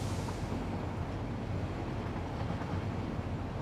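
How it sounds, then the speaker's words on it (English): Trains in the factory-building game Satisfactory rumble past as a steady, broad low-pitched roar of rolling wagons, continuous and fairly distant with no distinct horn or talk. "There's lots of trains going this way and that."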